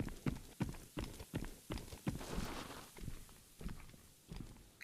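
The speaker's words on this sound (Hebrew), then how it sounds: "שומע צעדים" Footsteps in the VR shooter Contractors, Exfil Zone mode: a steady run of muffled, thudding steps moves at an even walking rhythm, moderately close, with no talk over them.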